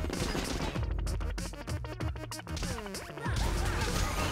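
Rapid gunfire from shooting a cop in the video game Pit People, dense loud volleys of cracks and crashes packed close together, no talking over them.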